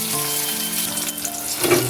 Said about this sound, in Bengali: টমেটোটা পেঁয়াজের সাথে একটু ভেজে নিই